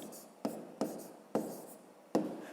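Pen writing a number by hand during a Ukrainian fifth-grade arithmetic exercise, a few short scratchy strokes with brief pauses between them, close and soft with no talking.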